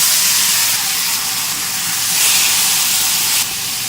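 Chana dal dropped into hot oil with chili powder, curry leaves and asafoetida, frying in a loud, steady, close sizzle that swells and eases slightly, with no voices.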